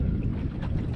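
Wind buffeting the microphone on a boat drift fishing for blues on Calaveras Lake, a steady low rumble with gusty fluctuations, close and fairly loud.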